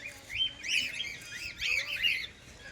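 Several birds chirp and tweet at a zoological park in Tirupati. Quick, bright, looping calls rise and fall in clustered bursts, fairly close and clear over a soft ambient background.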